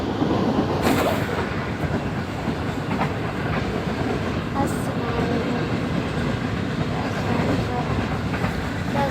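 Passenger train on the Karachi to Islamabad route, heard from inside a carriage: loud continuous rumble and rattle of the wheels on the rails, with faint rhythmic clicks and no clear talk.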